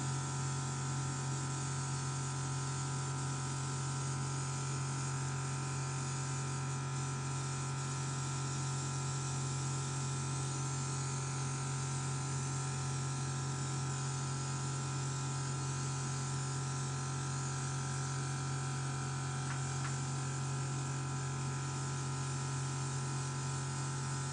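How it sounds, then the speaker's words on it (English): An airbrush sprays foundation makeup onto a face with a constant soft hiss over a steady compressor hum, unbroken and close for the whole stretch. "just go ahead and airbrush your face"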